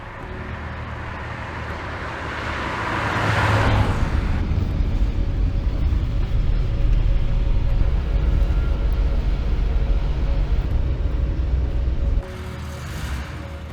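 A 1966 Porsche 911 Targa engine runs on a dyno, rising into a loud sustained roar with a jet-like whoosh, holding for several seconds before cutting off abruptly near the end.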